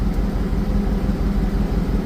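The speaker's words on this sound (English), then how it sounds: "If you hear the car running kind of weird, that's because we have the exhaust partially opened." A Cadillac STS-V engine runs continuously close by with its exhaust partially open, a low throbbing rumble with a slightly uneven, burbling exhaust note and no voices.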